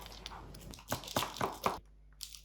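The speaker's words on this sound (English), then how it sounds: "Oh my god, listen to that crunch." Loud, close crunching of teeth biting into a slice of homemade Greek baklava, a run of four or five sharp crisp bursts over about a second, then quiet.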